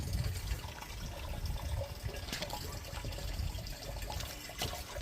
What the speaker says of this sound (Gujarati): પાણી ભરાય છે,